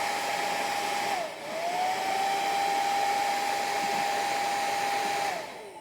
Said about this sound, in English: if you want to use the hair dryer